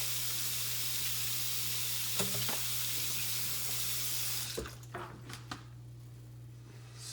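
Eggs are cracked into a bowl during breakfast cooking, a few sharp brief knocks and cracks standing out over a steady hissing, running-water-like background, with more cracks coming quickly once the hiss drops away.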